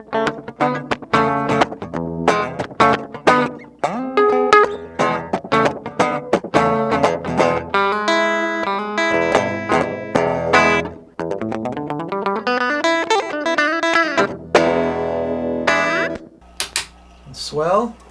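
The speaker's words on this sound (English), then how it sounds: "When I drive it into self-oscillation" A Binson Echorec 2 T7E analog delay unit is pushed into self-oscillation, its loud repeating echoes piling up into dense, rising and falling pitch sweeps that swell and smear over about eighteen seconds.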